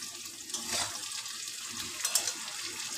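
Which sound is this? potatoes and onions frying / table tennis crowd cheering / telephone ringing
potatoes and onions frying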